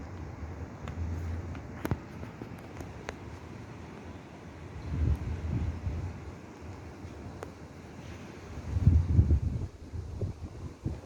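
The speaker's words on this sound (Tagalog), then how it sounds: "Ayan, humahangin guys. Humahangin." Wind blows around an outdoor pool, a low, gusty rumble buffeting the microphone that swells in uneven surges, strongest near the end, with a few faint ticks and no talk.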